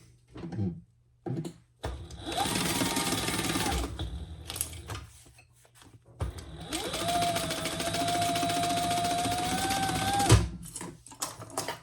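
Close, loud bursts from a sewing machine stitching the flap onto a convertible phone-pouch crossbody belt bag, two long runs of rapid whirring stitches separated by short pauses, clicks and handling noises.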